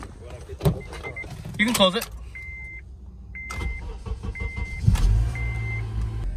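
A car's engine cranks and catches about two-thirds of the way through, then settles into a steady low idle as it warms up, after someone speaks and a door or power window sounds close by.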